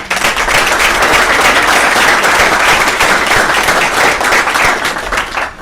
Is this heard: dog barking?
no